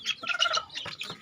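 Chickens of mixed breeds in a simple breeding coop give a short burst of close, rapid clucking and squawking calls, with no talk.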